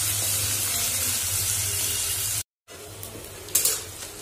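Onions frying in a pan make a loud, steady sizzling hiss up close, cut by a short gap, then continuing with a few sharper spatters and a stirring scrape.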